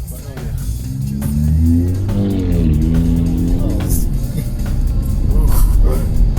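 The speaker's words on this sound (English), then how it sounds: "the BMW X5M is going to try to be the coolest car with speed and acceleration noise" A BMW X5M accelerates in Chicago-area traffic, its engine note climbing and swelling in a loud rising rev over steady road noise nearby.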